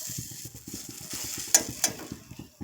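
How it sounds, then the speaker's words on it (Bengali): Bay leaves and cardamom frying in a pan, a soft sizzle with quick rhythmic scraping stirs and a couple of sharp clinks, close and quiet. "এতে এই তো তেজপাতা এলাচ ভাজছে"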